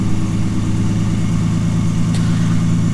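A car engine idles while warming up, a loud, steady, close rumble with an even low throb and no change in pace throughout.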